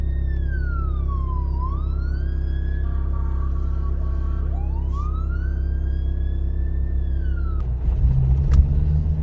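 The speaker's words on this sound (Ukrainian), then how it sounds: "бо у нас їде поліція з спецсигналами" A police car siren wails up and down in long sweeping cycles over a low engine rumble, fairly close and continuous, with a rougher burst of road noise near the end.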